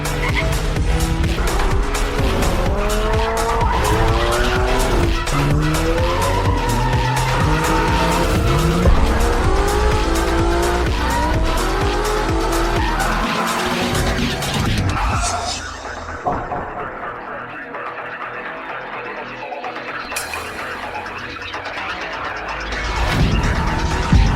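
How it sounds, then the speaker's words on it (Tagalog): A car races up from behind with tires skidding and squealing, loud and continuous engine roar over dramatic music, then a quieter stretch with a brief rise near the end. "May sasakyan na darating sa likod."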